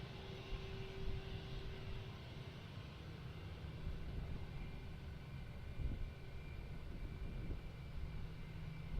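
An Airbus A319 airliner at Grand Rapids airport gives a steady, broad engine roar with a faint whine, heard from a distance and holding evenly throughout with no voices.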